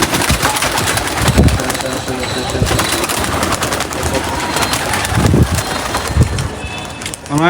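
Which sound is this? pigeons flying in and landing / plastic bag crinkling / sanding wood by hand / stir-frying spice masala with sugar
pigeons flying in and landing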